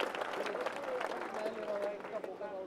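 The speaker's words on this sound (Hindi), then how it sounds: "थोड़ा तालियों में ना दम और लाओ ताकि हमारे में दम आएगा।" A large crowd at a BJP Grameen Aakrosh rally claps in a dense, steady wash of applause that runs throughout. A voice carries over the crowd noise.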